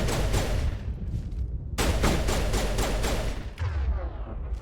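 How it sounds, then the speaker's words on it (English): Sustained squad gunfire in Mass Effect Legendary Edition, a dense loud stream of rapid shots with a brief lull and then a second burst of repeated cracks, no voices over it. "You guys are just shooting a rock."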